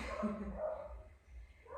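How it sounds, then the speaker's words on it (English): Dogs barking outdoors at a distance, a few muffled barks and yips behind the low hum of an indoor at-home Pilates workout. "Excuse the dogs outside."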